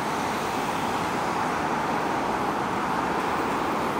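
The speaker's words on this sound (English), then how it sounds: "The BMW makes a run for it." A BMW pulling away through street traffic in Glasgow, Scotland, with a dense, steady wash of road and engine noise filling the scene at close range and no speech.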